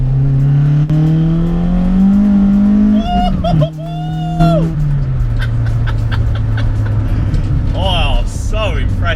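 A Toyota Starlet SR with a swapped Corolla 4AGE engine of about 170 bhp revs hard on a B-road, a loud close howl climbing through the gears with a brief dip at a shift, while someone talks over it.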